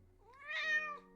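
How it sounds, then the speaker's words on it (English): A single cat gives one clear, drawn-out meow, close and moderately loud, rising and then falling over about a second with no other sounds. "He can meow."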